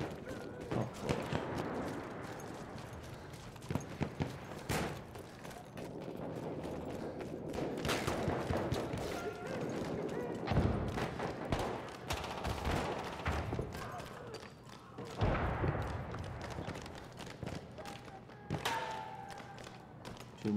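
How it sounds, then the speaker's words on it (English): Gunfire in the Battlefield 1 video game, scattered bursts and single shots with thuds and impacts, some sharp and near, others more distant, over about twenty seconds of battle noise. "Too much firing going off in my life"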